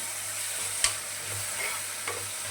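Ground shallot paste sautéing with small onions in a pan for Bangalore mutton kurma, a steady close sizzle with a couple of spoon stirs and scrapes.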